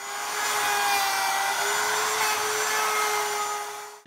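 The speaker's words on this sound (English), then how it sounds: "I'm going to use that bit to trim off the edge of this plastic laminate" A router fitted with a flush-cutting bit trims the edge of plastic laminate on a tabletop, making a loud, steady high-pitched whine that runs unbroken and cuts off at the end.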